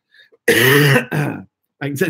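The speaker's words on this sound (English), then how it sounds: "I have to cough" A loud, harsh throat clearing and cough burst, followed by a second rougher cough a moment later and another brief one at the end, close and alone.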